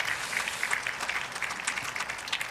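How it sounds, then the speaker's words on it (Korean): A church congregation at a Friday night worship service applauds the women's choir: a soft, continuous patter of many hands clapping, heard from a moderate distance with no talk over it. "우리 권사 성가대의 새로운 출발에서 우리 격려의 박수 한번 할까요?"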